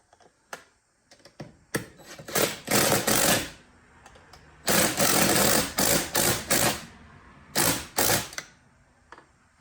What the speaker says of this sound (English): So I'm tightening these things down as it hangs.